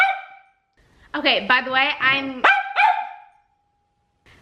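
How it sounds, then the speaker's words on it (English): Pet dog barking close by in a series of loud, rapid yaps and yips, with a person's voice speaking briefly before the barks. "I'm sorry if I have to yell over my dog's barking"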